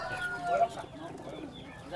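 Pigeons and other fowl call at the bird market of Pasar Plered in Cirebon, with soft cooing and clucking in a busy outdoor setting, moderately close and mixed with faint background noise.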